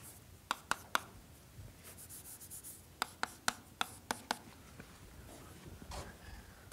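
Chalk taps and short strokes on a lecture-hall board, sounding in two quick clusters of sharp clicks with pauses between them, faint and close in an otherwise quiet room.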